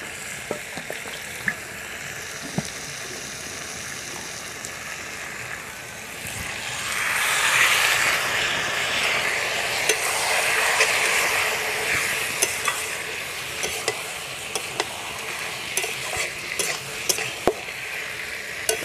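Duck meat with spices frying in a pan for a duck curry, a steady close sizzle that swells louder midway as the meat goes in, with occasional clicks and scrapes of utensils against the pan.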